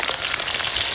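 Potatoes frying in mustard oil in a pan for a meat curry give a steady, close crackling sizzle like rain on a surface, continuous and alone with no talk.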